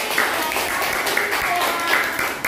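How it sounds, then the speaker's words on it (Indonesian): Classmates applaud a student group in a school lesson, a brief, soft spatter of clapping that blends with some background voices in the room. "tepuk tangan buat kelompok hemat listrik"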